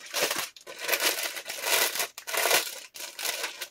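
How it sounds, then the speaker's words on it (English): Crinkling plastic packaging of a junk journal kit being handled, a close, loud, crackling rustle in several bursts separated by brief pauses, with no speech. "I know there's a lot of crinkling"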